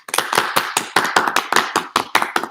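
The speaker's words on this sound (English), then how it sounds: "let's just give a round of applause for all of our beginning band" Sharp, separate claps ring out at a school band awards event, about a dozen loud, close hits in a quick, uneven rhythm with no talk.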